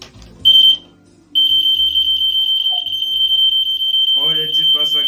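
A high, steady electronic buzzer beeps in a rapid pulsing tone, stopping briefly, then continuing as a voice speaks over it.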